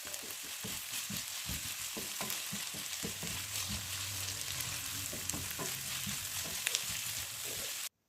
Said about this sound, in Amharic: ከቅጠሉ ይሄ ትንሽ ጠንከር ስለሚል ከሽንኩርቱ ጋር እንደዚህ አቁላለዋለሁ።